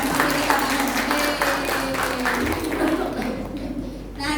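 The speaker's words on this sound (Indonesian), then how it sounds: "Tepuk tangan lagi dah untuk multimedia." Church seminar audience claps for the multimedia team, a dense, fairly loud patter of applause with some voices mixed in, fading slightly toward the end.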